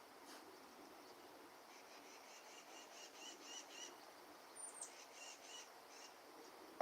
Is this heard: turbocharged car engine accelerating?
no